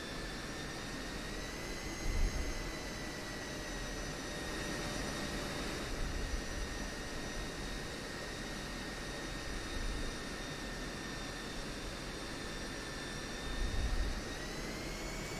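An F-16C Viper jet engine idles steadily while taxiing in DCS World, a constant whining turbine hum with high tonal whistles over a broad rumble, with a few soft low thumps.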